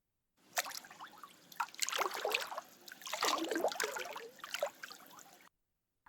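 Water trickles and splashes into a bath in a steady, close, uneven stream of bubbling bursts lasting several seconds, then stops abruptly.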